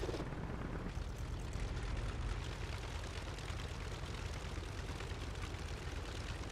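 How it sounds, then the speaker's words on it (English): A Focke-Wulf Fw 190 A-8 fighter's propeller engine in a flight simulator drones continuously with a rough, choppy low rumble, fairly quiet and unbroken, with no voices. "hear the chop of the propeller"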